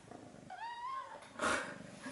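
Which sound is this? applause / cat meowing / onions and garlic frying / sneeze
cat meowing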